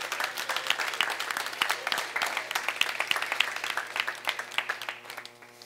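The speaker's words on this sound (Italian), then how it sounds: "Un applauso a Pasquale Ranieri che ha fatto." An audience at an event finale bursts into applause with dense, sharp individual claps that carry on steadily before thinning and fading toward the end.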